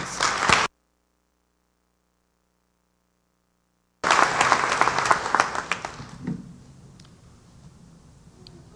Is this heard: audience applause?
yes